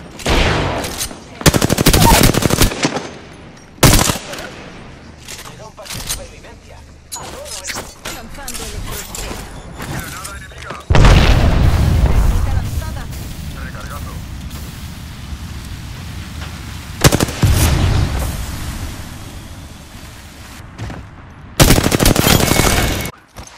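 Bursts of automatic gunfire in the video game Apex Legends crack out in loud, repeated volleys separated by quieter gaps, with rain-like noise and occasional spoken game voice lines in between.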